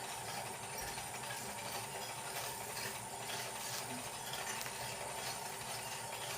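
Continuous fine clicking of a ratchet dial being turned to tighten a wearable head and neck device, steady and close over a constant background hiss, with no talk.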